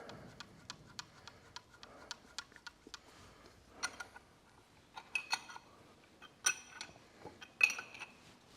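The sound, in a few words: spanner tightening bolt on Massey Ferguson crownwheel carrier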